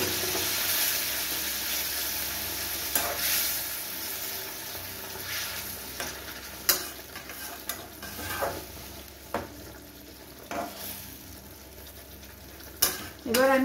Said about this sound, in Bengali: এবার আমি হাফ কাপ মতো জল এর মধ্যে দিয়ে দিচ্ছি।